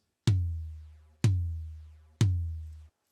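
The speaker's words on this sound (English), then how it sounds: "next on the list is my rack tom, which with nothing on sounds like this" Three deep, resonant unprocessed rack tom hits, evenly spaced about a second apart, each booming and ringing out long before the next strike.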